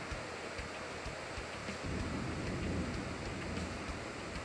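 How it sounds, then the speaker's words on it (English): Steady rainfall from the Pokémon Alpha Sapphire game, a dense, even hiss of falling rain that thickens partway through, heard alone without any voices. "This rain."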